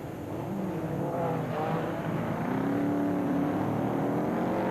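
Porsche-powered buggies race at the 1995 Žitavany autocross, a continuous roar of several engines revving and shifting pitch at mid distance.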